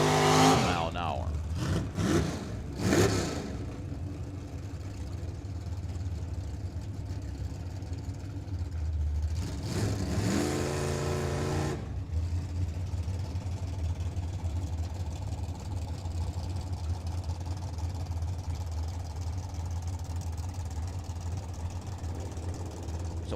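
Drag racing cars at Firebird Motorsports Park, including a GTO and a Chevelle, roar and accelerate down the track, with engine bursts early and a louder pass around ten seconds under a steady rumble, while an announcer talks over it.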